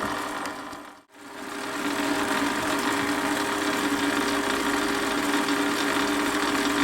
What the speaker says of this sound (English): This is the final cut at 7mm with a dovetail cutter